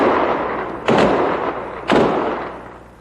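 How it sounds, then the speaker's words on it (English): Two sharp, loud reports about a second apart ring out at a funeral in Mostar, Bosnia, gunshots fired in salute to a slain policeman, each blast decaying into a long outdoor echo. "And the sound of gunshots"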